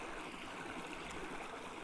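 Waterfall pouring over rocks at a quiet nature spot away from the tourist track, a steady, even rushing wash heard from a moderate distance with no voices over it.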